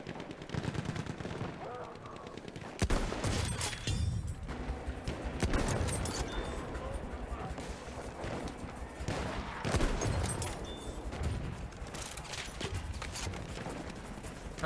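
Mars Automatico gunfire in Battlefield 1: rapid bursts of automatic shots with sharp clatter, repeating through the stretch amid other game noise, mid-distance and fairly loud.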